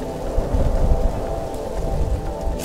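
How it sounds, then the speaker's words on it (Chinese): Rain falling outside during a summer road trip on the high-altitude Sichuan-Tibet 318 route, a steady close patter with low rumbling underneath, no talking. "真的是8点下雨"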